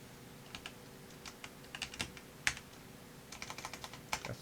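Quiet keystrokes on a computer keyboard come in uneven clusters of crisp clicks, close and faint over a low background hum.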